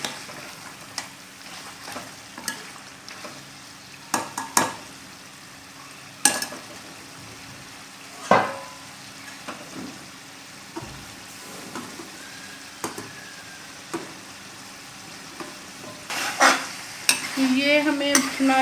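Desi chicken curry (murgh salan) frying in a pan, with a steady sizzle under repeated sharp scrapes and knocks of a spoon stirring the meat, louder bursts near the end.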